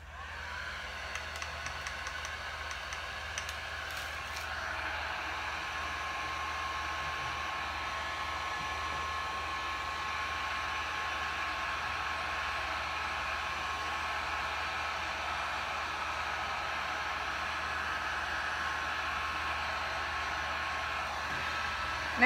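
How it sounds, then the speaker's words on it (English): A heat gun blows hot air over a resin art painting: a steady, loud broadband whoosh held for over twenty seconds with no break. "Now I'm gonna heat it up with my heat gun and see what we come up with."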